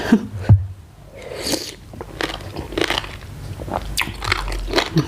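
Someone bites into and chews a spicy Thai papaya salad with fresh shrimp, stink beans and lead tree seeds, giving close, wet crunches and smacking bites in an uneven rhythm, loud near the microphone with no talking.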